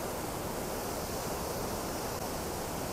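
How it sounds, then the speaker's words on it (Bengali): Steady, even roar of the Gundicha Ghagi waterfall, a broad continuous rush of falling water with no breaks, heard fairly faintly from a distance. "এই হচ্ছে ওয়াটারফল গুন্ডিচা ঘাগি।"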